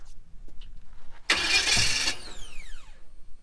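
A wrecker truck's engine cranks in one loud, rough burst lasting under a second, then falls away into a fading, descending whine with quiet surroundings before and after.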